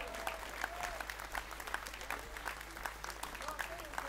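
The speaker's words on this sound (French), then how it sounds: "je vous demande d'applaudir aussi Virginie Tournay" Crowd at a political rally applauding a candidate, steady sustained clapping heard from a distance under a constant low hum.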